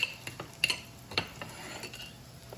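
Potato cake mixture with chopped onions being stirred and mashed in a bowl, giving soft scraping and a few light clinks of utensil on dish, close and fairly quiet with no talking.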